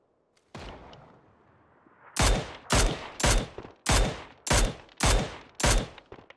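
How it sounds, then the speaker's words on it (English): Video game gunfire: a distant boom rolls out first, then a rapid series of seven loud, evenly spaced shots bursts close by, with no talk over them. "Somebody shooting behind you at them."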